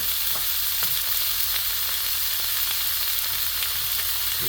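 Cheesesteak meat fries on a small electric griddle, giving a steady, moderately quiet sizzle with faint scraping taps from a spatula scattered through.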